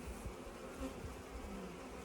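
Honey bees buzz steadily and softly at a hive entrance, a dense, continuous insect drone with no voices.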